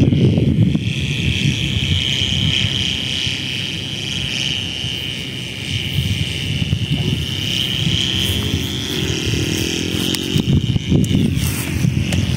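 Giant purple buffalo-shaped kite humming loudly in strong wind, a steady droning buzz like a distant propeller airplane, continuous throughout with heavy wind noise on the microphone.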